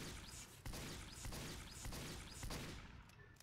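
Gunshots fired at a giant scout in Team Fortress 2, heard as a dense, loud run of rapid bursts with several sharper cracks standing out every half second or so, continuing with no talking.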